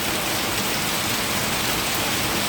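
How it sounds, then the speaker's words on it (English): Heavy rain pours steadily in Kingston, Jamaica, a dense, continuous hiss of water drumming on surfaces, close and even throughout with no voices. "Long time we don't get no heavy rain."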